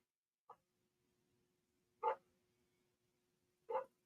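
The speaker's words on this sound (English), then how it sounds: "If you hear bark in the background," A neighbor's dog barks in the background, three short separate barks spaced over a few seconds, faint and distant against a quiet room with a low steady hum.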